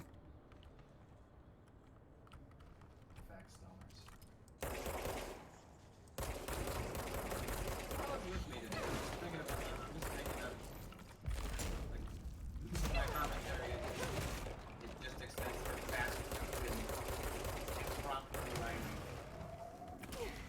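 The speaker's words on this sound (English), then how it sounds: "I couldn't hear you over all the explosions," Dense bursts of rapid gunfire and booming blasts from a battle in the video game Control, loud and continuous after a quieter opening, with voices talking over it.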